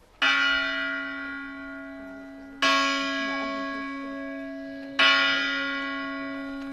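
Three loud strikes of new bronze church bells about two and a half seconds apart, each ringing out with a long, shimmering decay that overlaps the next.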